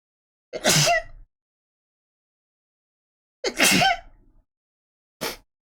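Two sharp sneezes about three seconds apart, followed by a shorter third burst, each loud and close with silence between them in a quiet indoor setting.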